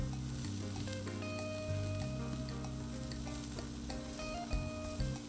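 Jumbo hot dogs sizzle steadily on a Blackstone 22-inch griddle seasoned with salt, pepper and garlic, a close, continuous frying hiss with scattered small pops and occasional scraping clinks, no voices.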